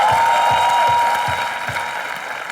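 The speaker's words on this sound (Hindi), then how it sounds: "जोरदार तालियां" Loud, dense applause from a TV comedy show studio audience fills the space, steady and continuous, slowly easing in intensity toward the end.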